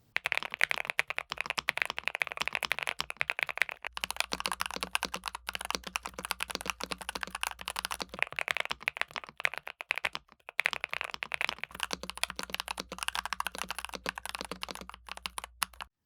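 Steady typing on a NuPhy Halo75 V2 mechanical keyboard, with a deep, poppy sound profile: dense, fast keystrokes clacking continuously and close up, with a few brief pauses and no voices.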